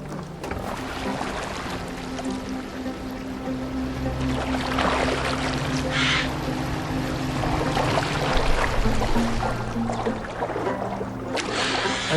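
A wooden longboat glides over water in Assassin's Creed Valhalla, oars and hull washing and splashing steadily under a low ambient drone, with a couple of brighter splashes and no talk.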